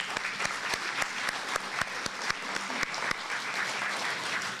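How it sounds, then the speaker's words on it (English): Audience clapping at a dinner theater event, steady sustained applause from a room of people with sharp individual claps standing out, moderately loud throughout. "let's give them another round of applause"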